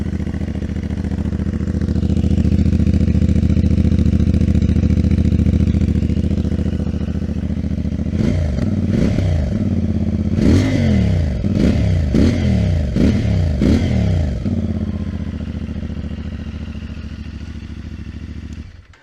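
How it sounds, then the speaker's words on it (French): A CF Moto 450MT twin-cylinder motorcycle idles with a throaty exhaust rumble, then gets a series of quick, sharp revs before dropping back to a steady idle. "pour ce petit bicylindre, il est vraiment pas mal. Il fait un joli petit bruit."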